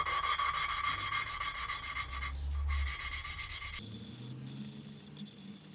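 A steady abrasive rubbing of an engine valve being lapped against its seat with grinding paste while rebuilding a Ford Fiesta MK6 cylinder head, close and continuous, changing tone partway through.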